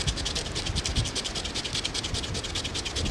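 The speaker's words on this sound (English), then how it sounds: "Here is a piece of horseshoe fungus. Just gonna scrape off some" A piece of horseshoe fungus being scraped outdoors on a windy day, giving a steady, close, rough scratching texture with a rapid rasping rhythm running throughout, no voices.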